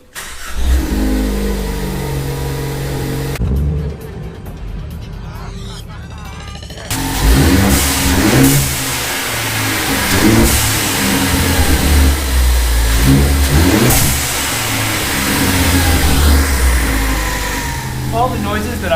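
Ford ST car with a newly fitted blow-off valve starting up and revving, engine rising and falling through several loud throttle blips, close by, with people talking in between.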